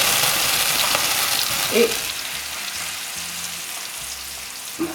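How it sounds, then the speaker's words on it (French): Apples browned in butter and flambéed with alcohol in a pan, giving a loud, continuous sizzling roar that slowly fades, with one short spoken word near the start. "Voici les pommes, juste dorées au beurre et juste flambées avec un alcool"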